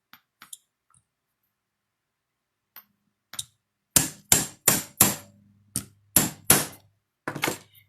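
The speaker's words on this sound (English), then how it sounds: "Grab my hammer here." A hammer strikes a metal dapping punch set in a forming block: a few scattered light taps, then a run of about nine sharp, ringing blows spaced roughly half a second apart, close and loud.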